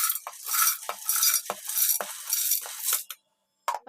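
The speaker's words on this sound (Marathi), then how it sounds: "तर आता आपण हे असं जाडसर मिक्सरला फिरवून घेऊया" A kitchen mixer grinder runs in short bursts, coarsely grinding roasted sesame seeds and crisp dry coconut, with loud rattling whirs separated by brief pauses, then a stop, a short silence and one more quick burst.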